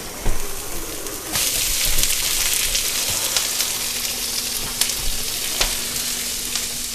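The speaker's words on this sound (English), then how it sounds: "We're adding the garlic and onion to our bacon. We got to get that sauteing." Bacon, garlic and onion sauteing in a pan give off a steady, close sizzle with small crackles and pops, and it grows louder when the ingredients hit the hot fat.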